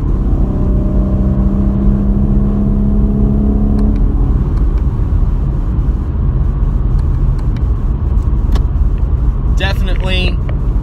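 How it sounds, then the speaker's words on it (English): A 2020 Chevrolet Camaro V6 engine hums steadily, then downshifts and accelerates into a rougher, louder rumble, with someone talking over the sound. "So we can downshift, give ourselves a little more available power."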